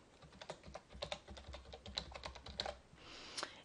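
Rapid clicking keystrokes on a computer keyboard as a username is entered for a login, a steady uneven patter of close taps that ends in a brief softer rustle.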